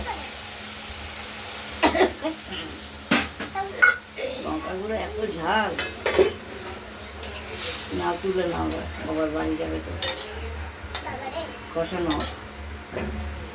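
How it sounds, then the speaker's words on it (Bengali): Spice masala for a katla fish curry sautés in a pan with a sizzle, while a spoon scrapes and stirs in irregular bursts and a voice talks over it. "মশলাটা দিয়ে দিলাম এবার এটা কষিয়ে নেব"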